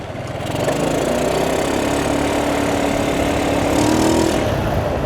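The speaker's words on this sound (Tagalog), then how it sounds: "Sarap pala mag-motor." A motorcycle engine drones steadily as it is ridden through a residential street, a close and constant mid-pitched hum that swells slightly near the end.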